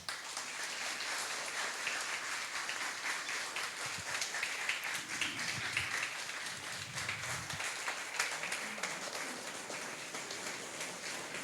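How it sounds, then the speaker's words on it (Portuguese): Applause for a percussion and melodic instrument band at a municipal council session, a steady crowd of hands clapping, somewhat distant and even, with low rumbles in the middle. "nós pediríamos uma salva de palmas a todos os integrantes"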